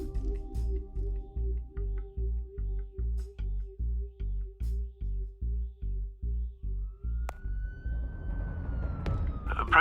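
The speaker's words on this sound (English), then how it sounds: "There are quite a few police cars convening on your location." Police car sirens wail in the Batman Telltale Series, with a low pulsing two-tone cycle that repeats steadily about twice a second. It ends as a rising electronic tone and a rushing swell take over.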